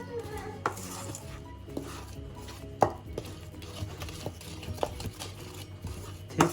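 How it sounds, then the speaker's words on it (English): Thick cake batter with added sugar being mixed in a bowl for an oven-free cake, steady scraping and stirring with occasional sharp utensil knocks against the bowl, close and alone. "again we have to mix it really well"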